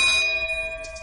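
A bright bell chime rings out alone, one struck tone with sustained ringing overtones that slowly fade over about a second, loud and close.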